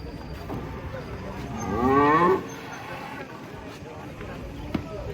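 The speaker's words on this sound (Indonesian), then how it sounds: "Sapinya betina-betina jumbo" Cattle just unloaded from a truck at a livestock market, one cow letting out a single drawn-out moo midway, with people chatting in the background throughout.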